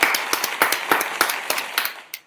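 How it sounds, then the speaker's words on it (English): A short round of clapping from an audience at an evening talent event, a dense run of sharp hand claps that trails off and ends with a final isolated clap. "Let me give you a round of applause."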